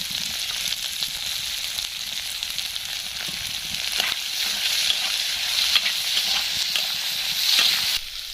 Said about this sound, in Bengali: এর মধ্যে গাজর কুচি মটরশুঁটি কুচি কাঁচা লঙ্কা কুচি পেঁয়াজ সাথে টমেটো দিয়ে দিচ্ছি